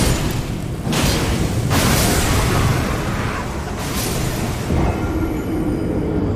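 Explosions in the video game Elden Ring: a series of heavy booming blasts with whooshing bursts rolls through a loud, steady battle din, with the strongest hits early and a smaller burst near the end.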